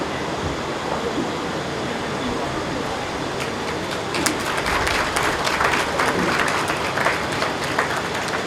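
Applause for a guru being honoured at a yoga ceremony, a dense crowd clapping that swells in the second half and carries on steadily throughout, with no speech over it.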